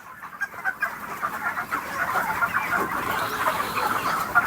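Chickens on a poultry farm drink and cluck, with a busy overlapping chorus of clucks and calls at moderate distance and no talk.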